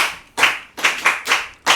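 Children clap for a classmate in short bursts, five quick sharp clusters of handclaps close by, with brief gaps between them.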